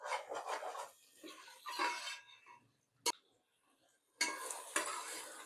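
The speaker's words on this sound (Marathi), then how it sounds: "त्याला आता आपण हलवून घेऊ" A spoon stirs spicy masala curry in a pan, with scraping and sizzling strokes in bursts separated by quiet pauses and one sharp clink.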